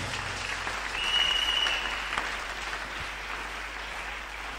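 A church congregation applauding together, a steady sustained clapping that swells briefly and then continues evenly throughout.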